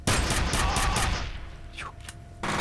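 Heavy weapon gunfire in the shooter F.E.A.R., with a dense burst of loud, close shots in the first second and a half, fading into a quieter stretch with game noises and returning at the end.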